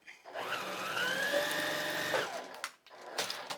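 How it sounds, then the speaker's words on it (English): Sewing machine stitching fabric for paper piecing, a steady close whirring run of about two seconds that stops, followed by soft handling noises. "So now I'm going to put this back in the machine. I'm going to open this and I'm going to sew it."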